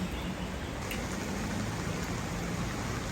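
Rain pours steadily at an aviary park, a dense, even hiss of falling drops with no break and no voices.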